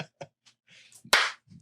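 Hand claps in a quiet room: a couple of light claps, a pause with faint murmuring, then one sharp, loud, close clap near the end.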